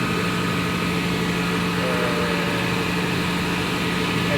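Steady, loud mechanical roar of a diesel engine running inside the engine room of an 8,000 BHP ASD tugboat, each engine near 4,000 horsepower, a constant drone with a low hum and no pauses.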